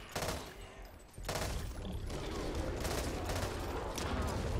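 Vector submachine gun bursts in Back 4 Blood, rapid full-auto fire in several loud volleys with a brief gap early on, then sustained shooting to the end.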